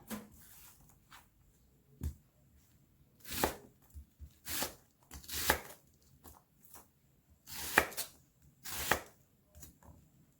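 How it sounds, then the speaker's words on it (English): Sharp knife cuts through vegetables on a board while preparing skillet chicken with roasted vegetables, giving a string of crisp chopping taps, some isolated and some closely paired, close by against a quiet room. "and then I'm just gonna cut slices"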